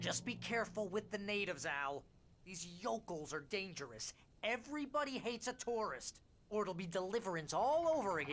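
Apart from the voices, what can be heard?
No distinct noise like a dog, phone or traffic.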